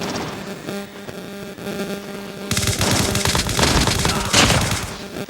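Machine gun fire in Call of Duty Mobile breaks out halfway through as a dense, rapid burst of shots, loud and close over a busy game soundscape, with no talking.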